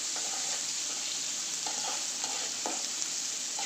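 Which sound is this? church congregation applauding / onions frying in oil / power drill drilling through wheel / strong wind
onions frying in oil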